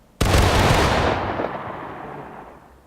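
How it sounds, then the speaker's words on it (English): A single massed musket volley from an infantry company in the Civil War game War of Rights: one loud, sharp crack from many rifles firing together, then a long rolling echo that slowly fades. "So remember, lads, one big volley."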